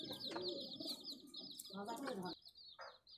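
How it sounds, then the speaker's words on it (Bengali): Madrasi pigeons in a loft coo close by, with repeated soft calls and chirps alongside talking. "এক পেয়ার ম্যাড্রাজি কবুতর।"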